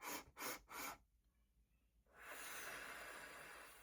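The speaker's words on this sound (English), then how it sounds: "I call them bunny breaths in" Three short, quick sniffing inhalations in a row, close and crisp, followed by a pause and then a longer, steady airy breath.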